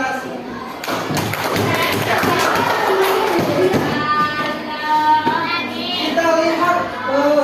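A primary-school class claps together in a classroom, a burst of dense hand clapping mixed with children's voices and thumps, carrying on for several seconds amid talk.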